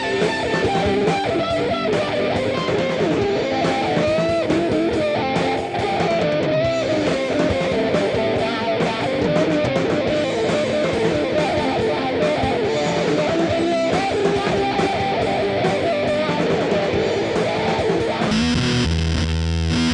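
Electric guitar solo played through a fuzz pedal, a dense, saturated, sustained lead over a full backing for twenty seconds, loud and continuous, with no talking.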